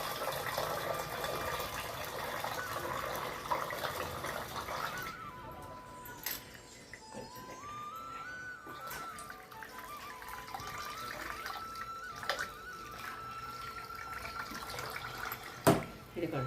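Water runs and gushes into a vessel in a home kitchen before cooking in a pressure cooker, a steady moderate pour that gives way to quieter clinks and handling noises.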